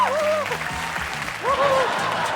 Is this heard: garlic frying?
no